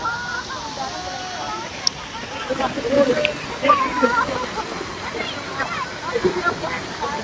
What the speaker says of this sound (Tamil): தண்ணி ஃபாஸ்ட்டாக வருதுங்க அங்கெல்லாம்.